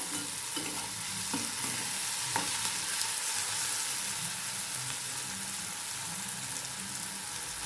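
Food being sautéed in a pan, heard as an even, close hiss of frying with a few soft spatula knocks early on, with no voices.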